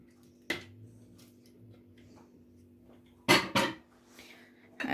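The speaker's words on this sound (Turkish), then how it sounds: "Hepsini karıştırıyorum şimdi. Ispatulamla." A spatula stirs ingredients in a frying pan while making pan lahmacun: a few quiet, brief scrapes and clinks, one alone and then a quick pair close together, over near silence.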